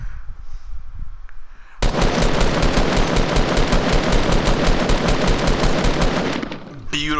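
Sustained rapid automatic gunfire in a Fortnite match, loud and continuous for several seconds after a quieter lead-in, ending abruptly.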